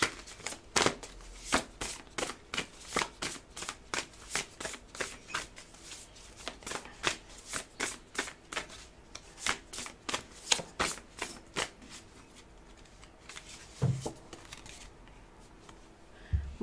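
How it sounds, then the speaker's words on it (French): Oracle cards shuffled by hand for a tarot-style reading, a fast run of crisp riffling slaps and flutters in steady rhythm, close and fairly loud, with no talking. "je vais quand même prendre un dernier oracle, histoire de vous faire un tirage quand même"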